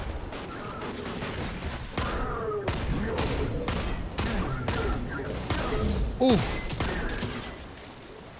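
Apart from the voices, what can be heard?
hand cannon gunfire in the video game Destiny 2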